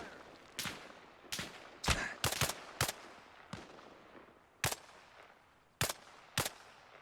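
Enemy gunfire in a military shooter game, sharp separate cracks arriving in irregular single shots and quick pairs, fairly close and punchy over a quiet background.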